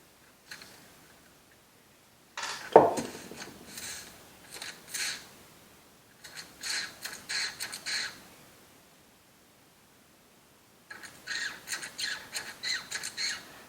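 A carburetor fuel pump makes rhythmic sucking, squelching noises, close and fairly quiet, in three bursts of rapid pulses separated by near-silent gaps.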